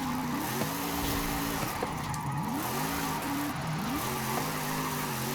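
A donut drift car on drift tires in Forza Horizon revs hard and steadily, its engine pitch swooping up and down as it slides, loud and close with no talk.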